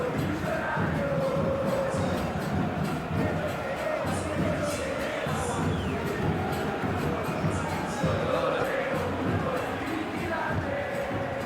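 Crowd noise in a soccer video game stadium, a steady roar of applause and murmur filling the stands throughout, loud and continuous under match commentary.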